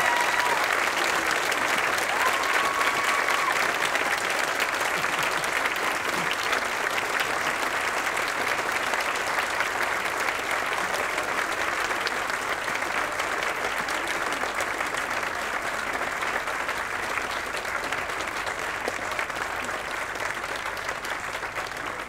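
A hall audience at the University of Auckland Law Awards applauds steadily for the top law undergraduate, a dense, even clapping that holds for over twenty seconds with no speech.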